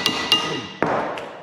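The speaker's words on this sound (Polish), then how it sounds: "Nic na siłę, tylko młotkiem." Metal hammer blows on seized brake parts of a C3 car: about four sharp, close strikes at uneven intervals, each ringing briefly before the next.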